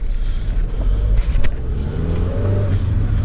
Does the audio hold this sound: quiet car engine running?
yes